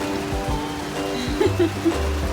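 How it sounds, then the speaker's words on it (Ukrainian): Rain begins to fall in a rural village yard, a steady, moderate hiss of drops pattering on surfaces, with a low hum and a few soft knocks in the background. "Ластуня, починається дощ."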